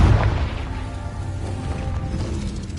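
A Confringo blast spell bursts in Hogwarts Legacy on PlayStation 4 Pro, a loud low boom at the onset that decays into a rumbling, crackling tail with no voices over it.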